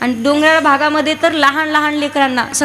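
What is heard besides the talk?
None of the usual background noises is heard.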